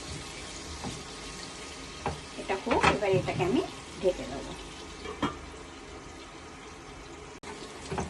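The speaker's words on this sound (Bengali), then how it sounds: "বেগুনটাকে ভালো করে ভেজে নেবো" Eggplant frying in oil with a little turmeric, a soft steady sizzle with a burst of stirring and scraping in the middle, while a person talks over it.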